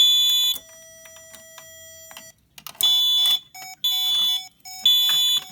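A building fire alarm system under test sounds in sharp, high, repeated tone bursts, a long steady tone first and then several loud pulses, with no talking.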